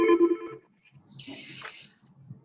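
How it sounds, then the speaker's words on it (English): A phone rings over an online meeting connection, a short electronic chirping burst heard faintly and close, with a brief low voice at the start and some scratchy, hissy noise after the ring. "Whose phone is that, Iris?"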